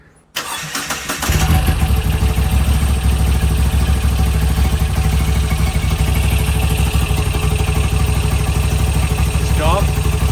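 A Moto Guzzi V85TT motorcycle fires up after a short crank and settles into a loud, steady idle that runs on without a break.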